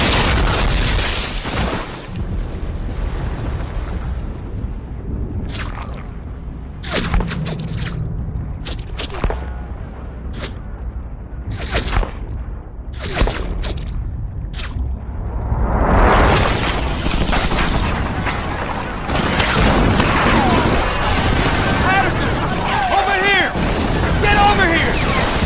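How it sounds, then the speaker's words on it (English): Artillery strike explosions on a beach in Medal of Honor, deep booms and rumbling blasts over surf and wind, growing into a loud sustained roar near the end, with voices talking over it. "That artillery strike scattered what's left of our squad all over the beach."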